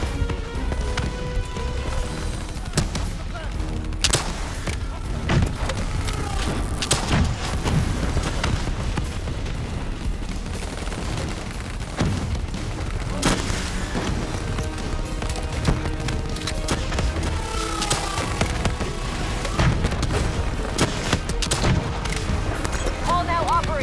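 Sustained gunfire from Call of Duty Black Ops 3 in a battle against a robotic enemy, loud overlapping bursts and impacts filling the whole stretch, with in-game voices calling out over the chaotic din.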